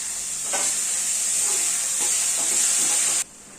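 Cabbage and tomatoes sizzle and hiss steadily in a pan for sambar, a loud continuous fry with faint stirring scrapes, cutting off abruptly near the end.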